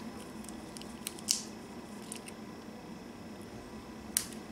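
Scissors cut paper for a handmade shaker card, giving two brief crisp snips spaced a few seconds apart over a quiet indoor background.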